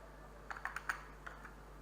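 Light typing on a computer keyboard while searching in a Windows menu, with about seven soft, close key taps in two short bursts over a faint steady hum.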